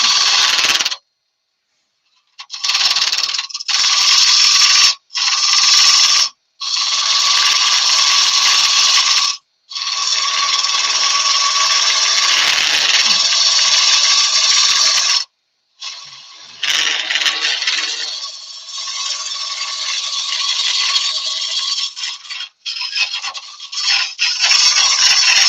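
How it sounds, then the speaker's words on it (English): A woodturning lathe running in reverse while a tool hollows out a wooden vase, loud harsh scraping bursts, close and sustained, cut by short pauses and brief gaps between passes. "by hollowing in reverse with the lathe in reverse, I can actually see"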